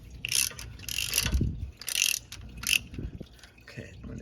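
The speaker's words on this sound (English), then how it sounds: "Okay, I'm going to take the ratchet off" A ratchet wrench loosens a car's oil filter, giving several short bursts of rapid metallic clicking separated by pauses, close and fairly loud, with low scraping handling noise between them.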